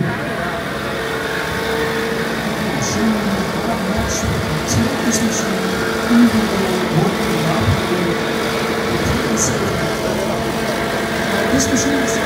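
A Menzi Muck M545x walking excavator with a 9 meter boom works tilted at a Bauma 2025 demo show, its engine a steady mid-range drone with occasional clanks and faint voices mixed in.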